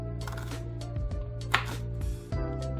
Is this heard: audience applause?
no